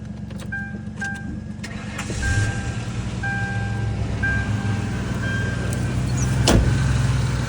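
A 2003 Ford Crown Victoria engine cranks and catches, settling into a steady running idle up close with a brief high whine and some clicks early on, rising slightly in loudness later.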